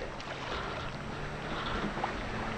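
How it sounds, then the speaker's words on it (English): Strong wind blows across a sailboat on a gusty day, a constant broadband rush with faint water and rigging noise underneath, steady and close to the microphone. "Pretty windy day today."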